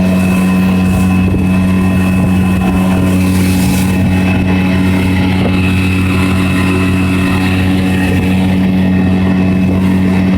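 A motorboat runs steadily at 25 miles an hour, its engine a loud, constant droning hum with rushing water beneath, unbroken from start to finish.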